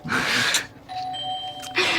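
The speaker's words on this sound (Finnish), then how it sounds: "Ovikello. Siellä on joku." A doorbell chimes once with a clear sustained tone, set between bursts of noisy rustling before and after.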